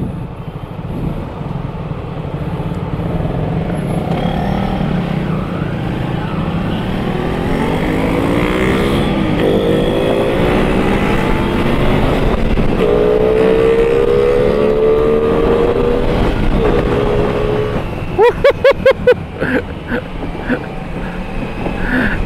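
A Triumph Daytona 660 motorcycle engine revs hard on the road, its pitch climbing steadily through rising acceleration sweeps, loud and close, with a brief burst of sharp pops near the end.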